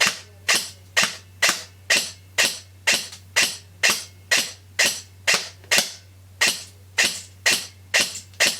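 An upgraded Novritsch SSR63 airsoft G36-style rifle fires BBs in a steady, evenly spaced string of about seventeen sharp, close snapping shots over a faint constant hum.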